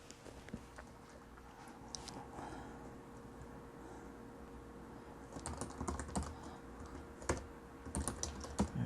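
Computer keyboard typing as a blog post is written, a soft, uneven patter of quiet keystrokes that thickens into quicker bursts toward the end, over faint room hiss with no voices.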